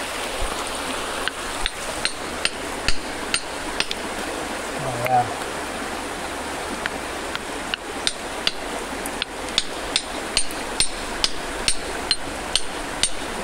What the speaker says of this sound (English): You want me to hold it and use the chisel on it?